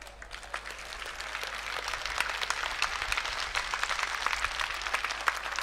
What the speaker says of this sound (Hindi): सबसे प्रार्थना करता हूं कि खड़े होकर एक दफा जोरदार तालियां बजाएं।